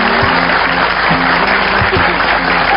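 A studio audience on an Indonesian talk show claps together in a steady, dense wash of applause that continues throughout without letup.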